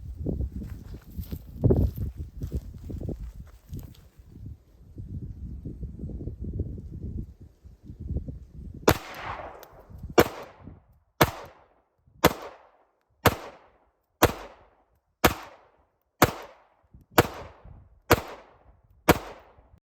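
Pistol shots from a handgun fitted with a non-compensated Shadow Systems barrel ring out outdoors, eleven sharp, loud reports spaced about a second apart, following several seconds of low shuffling and handling noise.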